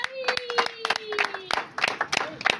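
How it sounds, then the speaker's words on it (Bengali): Several people clap in irregular bursts during a lively party game of hunting for a coloured ball among white balls, mixed with background chatter and a faint whistle-like tone. "হাততালি দেখা যাক"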